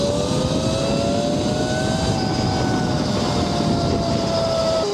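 A 72V Tuttio Soleil electric motorbike accelerates at half throttle, its motor whine holding steady and then climbing in pitch over a constant rush of wind and road noise, loud and close, with no talk.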